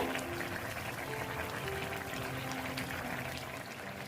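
Koi fish curry with potato, cauliflower and lentil dumplings simmering in a pot, a steady, soft bubbling hiss with a faint low hum throughout.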